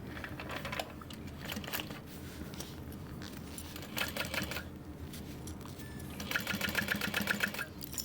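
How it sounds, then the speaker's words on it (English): A home sewing machine stitches a line across a fabric backpack about an inch from the bottom edge, running in several close, steady mechanical bursts with short pauses between them. "I'm just gonna do a little line of stitching."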